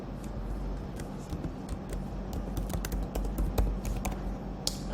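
A password is typed on a computer keyboard, a quick irregular run of close, crisp key clicks over a faint background hum, with no talking.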